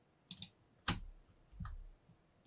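Computer keyboard and mouse clicks while working in CLO 3D fashion design software, a few sharp isolated clicks and a soft keypress, close and quiet.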